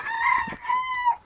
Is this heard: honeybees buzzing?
no